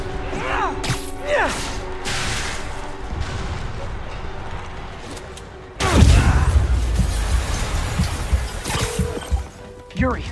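A video game explosion in Spider-Man Remastered erupts partway through with a sudden heavy boom and sustained rumbling debris, after quieter action effects and under-speech voices earlier.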